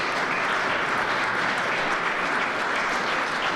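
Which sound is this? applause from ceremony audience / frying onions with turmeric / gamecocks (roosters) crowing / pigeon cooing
applause from ceremony audience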